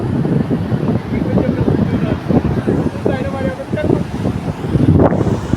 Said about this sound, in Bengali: অনেক বাতাসের অনেক ঢেউ